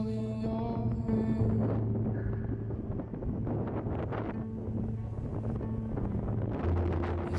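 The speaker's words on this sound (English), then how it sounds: "The wind is obviously going like 40, 50 miles an hour." Strong coastal wind at 40 to 50 mph buffets the microphone on the Oregon shore, a loud continuous roar and rumble with no voices.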